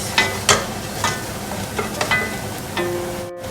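Onions and masala powders sizzle in a pan for paneer butter masala while a spoon stirs them in several close, scraping strokes.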